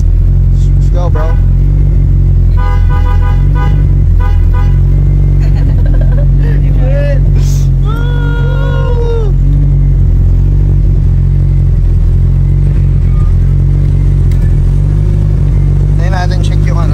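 A K-swapped Honda EG hatchback's engine idles with a steady low drone and brief revs, close by, while voices talk over it.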